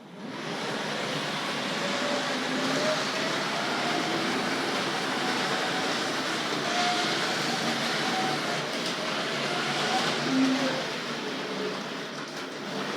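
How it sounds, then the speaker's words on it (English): Tri-ang model trains, including a double-ended diesel and a Flying Scotsman, run on a model railway layout with a steady, close rumble and whir of motors and wheels on track throughout, with no talking. "Just playing with the trains."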